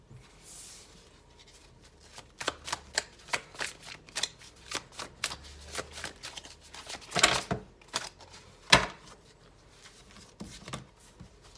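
Tarot cards shuffled by hand in a deck that tends to flip cards, a quiet run of crisp riffling snaps and soft papery slides with a couple of sharper bursts, close up and with no talking.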